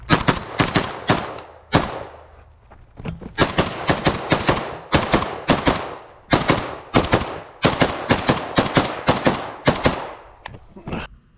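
A Molot RPK-74 rifle fires loud, close, sharp shots in quick strings and short bursts, roughly steady in rhythm with brief pauses between groups, over about eleven seconds, with no talk.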